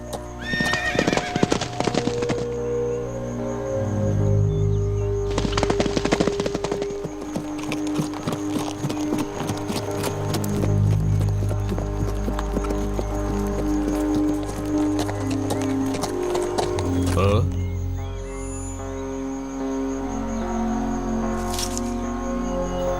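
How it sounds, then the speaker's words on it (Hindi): A horse in a children's animated episode gallops with loud, rapid hoofbeats in repeated bursts, broken by several whinnies, close and alone with no talk. "तुम अपने घोड़े की रफ्तार बढ़ाओ"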